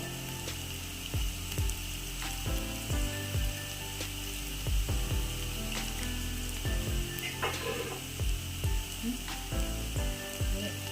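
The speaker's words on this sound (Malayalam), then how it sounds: "ഇട്ടിട്ട് വഴറ്റാം ഉപ്പ് ചേർത്ത് തുടങ്ങാം" Mushrooms sauté with salt in a pan, giving a steady low sizzle under a rhythmic series of scraping, ratchet-like strokes from a spatula working the pan at close range.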